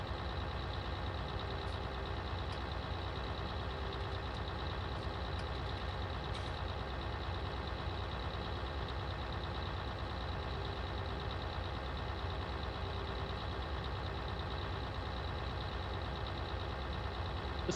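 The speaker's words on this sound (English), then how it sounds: "Listen to that tractor just putter along." A farm tractor engine in Farming Simulator 19 putters along steadily at an even, unchanging drone, with faint sparse clicks on top and no talking.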